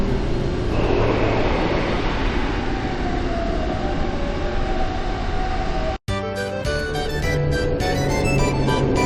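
Steady loud rumble of a sky tram ride in Xenoblade Chronicles 3, a continuous rolling rail-like drone with a brief cut near the end before a brighter musical passage takes over.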